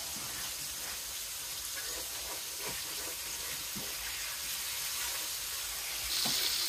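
A fish head frying in a hot pan gives a continuous, dense sizzle with soft crackles and spits, close and steady throughout, with no talking.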